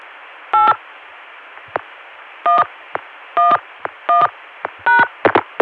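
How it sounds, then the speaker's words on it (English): A telephone number is dialed on a 1981 CCSA network line with DTMF touch-tones: short paired-tone beeps in irregular bursts over a hissing line, interspersed with brief clicks. "we're in the middle of calling 281-8111. So now we can dial the rest of the number"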